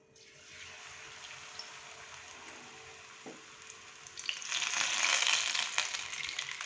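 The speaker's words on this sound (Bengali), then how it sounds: "এই যে পালংয়ের পাতাগুলোকে একটা একটা করে নিয়ে বেসনে ডুবিয়ে ভাজবো" Spinach leaves dipped in gram flour batter sizzle in hot oil, a steady close frying hiss that swells louder and crackles more toward the end as fresh leaves go in.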